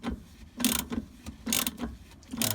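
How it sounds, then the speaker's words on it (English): A torque wrench on a Mk4 Ford Mondeo rear shock bolt clicks through its ratchet in three short, close bursts of metallic clicking. "we'll just put the torque wrench on it"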